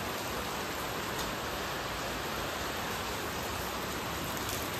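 Heavy rain pours down steadily at night, a dense, unbroken hiss filling the whole stretch with no pauses or voices.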